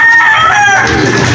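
A loud, close rooster crow, one drawn-out strained call that fills the moment, with a voice murmuring faintly underneath.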